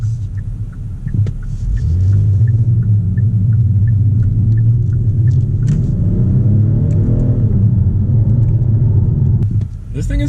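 A 2019 Genesis G70 engine rumbles loudly and revs up after a downshift, its tone climbing and then easing off, with a person speaking over it.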